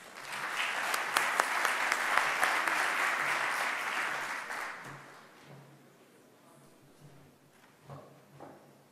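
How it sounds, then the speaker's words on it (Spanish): An audience applauds warmly for about five seconds as an engineer is welcomed to speak at an industrial company event, the clapping dense and steady before fading out, followed by a few faint scattered sounds. "Recibimos al ingeniero David Jaramillo con un fuerte aplauso"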